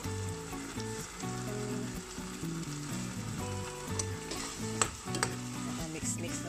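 Eggplant seasoned with salt and ground black pepper sizzles steadily in a frying pan as it is stirred, with occasional utensil clinks over the continuous crackle.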